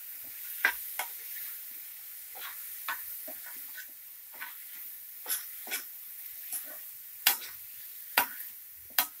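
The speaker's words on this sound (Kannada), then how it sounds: "ಮೂವತ್ತು ಸೆಕೆಂಡ್ ಫ್ರೈ ಮಾಡ್ಕೊಳ್ಳಿ ಹಂಗೆ." Tomato mushroom gravy seasoned with chili powder, turmeric and salt being stir-fried in a pan, with a soft steady sizzle broken by a string of sharp, scattered spoon scrapes and clicks.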